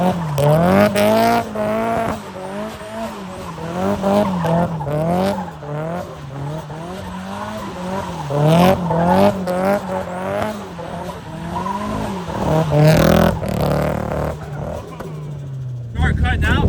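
A drift car engine on low boost repeatedly revs up and falls back. It stutters and cuts out as it hits boost cut, loud and close throughout, with tire noise and voices mixed in.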